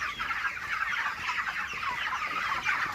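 Dense flock of broiler chickens on a poultry farm clucking and chattering continuously, a steady busy murmur of many birds with no talk.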